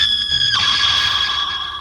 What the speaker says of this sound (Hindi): एक तेज चीख गूंजी।